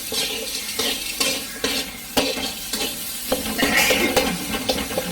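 Steady scraping and stirring in a pan with a faint sizzle underneath, a spoon knocking against the metal now and then. No one speaks.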